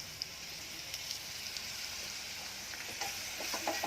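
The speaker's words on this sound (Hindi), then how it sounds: "ये बघार चढ़ाई हूँ बीज की" Cumin seeds sizzling in hot oil for a tempering, a steady soft crackling hiss with scattered sharper pops growing busier toward the end, heard alone.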